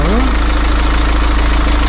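A BMW X4 engine runs with the hood open and a microphone held right to it, a loud steady idle with a deep low hum and even mechanical vibration, close throughout.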